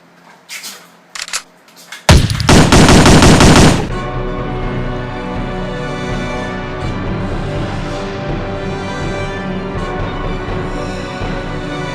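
Video-game gunfire aimed at enemies: a few sharp shots, then a loud dense burst of rapid fire that settles into a sustained, rattling din of shooting and game noise.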